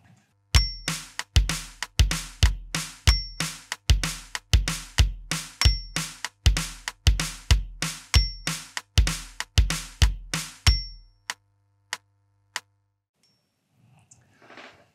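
Drum kit playing a steady bridge groove from a rock song, bass drum and snare only, with sharp, evenly spaced close hits in a driving pattern for about eleven seconds, then a few isolated strokes and silence.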